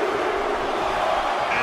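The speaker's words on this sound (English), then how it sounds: "Baron Corbin, listen to this crowd." A roaring arena crowd in the wrestling video game WWE 2K18, during a Royal Rumble match, makes a dense sustained wash of noise for a brief moment.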